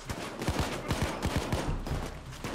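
Rapid gunfire and shotgun blasts from the Payday 2 video game during a bank heist, a dense flurry of sharp overlapping shots at moderate volume.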